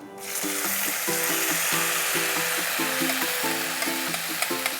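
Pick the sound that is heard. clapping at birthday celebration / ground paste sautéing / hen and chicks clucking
ground paste sautéing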